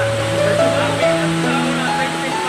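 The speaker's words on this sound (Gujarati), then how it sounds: "ત્યાં જુઓ ધોધ એનો પાણીનો" Waterfall at Jatashankar near Junagadh, a loud continuous roar of falling water filling the scene, with people talking over the rush.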